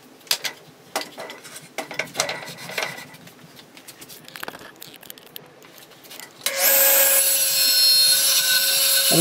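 A hand saw cuts a wooden U-shaped piece in half with irregular scraping and knocking strokes, then a loud, sustained high-pitched whine takes over for the final seconds, close and dominant.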